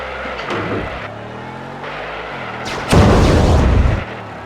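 Rocket explosions in the WWE Crush Hour vehicle combat game: a loud, roaring blast bursts in near the end over steady engine hum, following softer whooshing launches.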